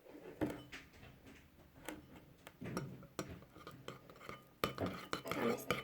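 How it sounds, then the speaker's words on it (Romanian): Slime being stirred in a bowl, with clinking utensil and bowl knocks and wet squishing in an uneven rhythm, close by and moderately loud, with faint background voices. "Amestecăm."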